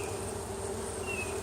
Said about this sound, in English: All little worker bees just doing their job